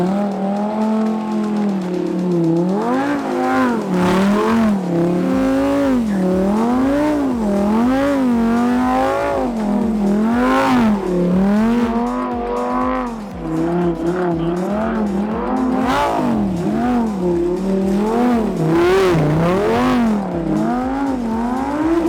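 A tuned Lamborghini Huracán V10 LP580-2 drones loudly and continuously from inside the car, its engine pitch rising and falling in repeated rev swells while driving.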